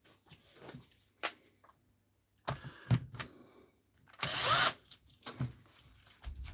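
A faulty DeWalt rotary hammer drill grinds roughly in several short, loud bursts with brief pauses between them, the longest burst near the end.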